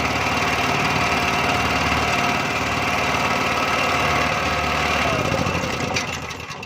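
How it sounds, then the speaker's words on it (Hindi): A small petrol generator running steadily after a fuel leak repair, a loud continuous engine drone with a slight knock, close by, easing off near the end, with no talk. "अभी हमारा जनरेटर बिल्कुल अपनी जगह सही हो गया है, पेट्रोल वगैरह बिल्कुल नहीं आ रहा।"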